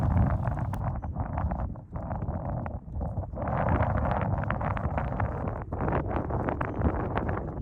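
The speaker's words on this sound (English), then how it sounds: "As you can hear, it's still good and windy." Steady, gusty wind roars across the microphone outdoors at a wetland birding spot, a loud continuous rush with brief dips and swells throughout.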